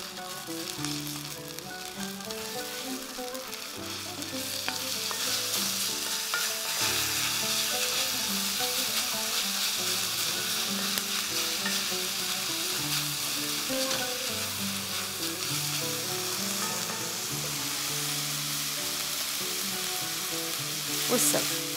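Minced meat sizzles and crackles steadily in a hot pan, loud and close, with occasional stirring over the continuous frying hiss.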